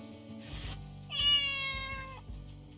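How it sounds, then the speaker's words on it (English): A cat meows in the video game The Good Life, one drawn-out tonal meow over a background of game music, with no talking. "This fucking cat be scaling the walls."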